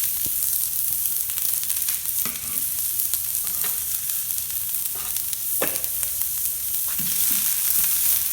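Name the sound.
chopped onions frying in extra virgin olive oil on grill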